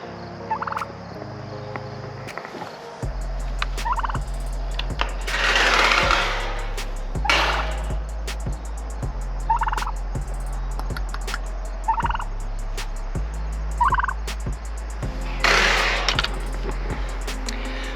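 Domestic turkeys gobble repeatedly in a chicken tractor on a small farm, bursts of loud calls recurring every few seconds over a steady low mechanical hum, with no talking.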